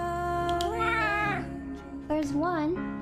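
A cat named Mitten meows with drawn-out, wavering cries, two distinct calls close to the mic over a steady low background hum.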